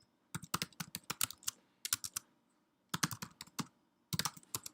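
A name being typed on a computer keyboard in quick clusters of crisp key clicks, separated by brief pauses, close and clear.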